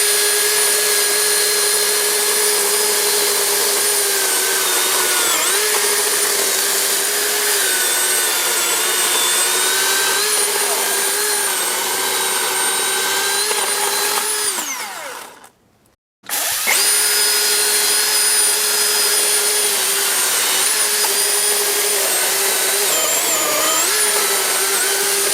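A Makita or Milwaukee battery chainsaw running steadily at its lowest speed, a loud, even motor whine with a brief cutout partway through before it spins back up.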